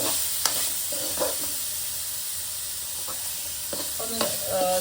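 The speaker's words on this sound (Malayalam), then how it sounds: "ക്യാപ്സിക്കം എപ്പോഴും ജസ്റ്റ് സോട്ടേ ചെയ്യുന്നതാണ് അതിൻ്റെ ടേസ്റ്റ് മെയിൻറ്റെയിൻ ആവുന്നത്" Colored capsicum sautéed and stirred in a pan, giving a soft steady sizzle broken by a few clinks and scrapes of the stirring spoon, close by with no voices.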